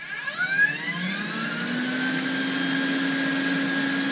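A Hyla GST water vacuum cleaner runs in cleaning mode, giving a steady, loud motor whine with a rising pitch as it settles into its speed, with no talk over it.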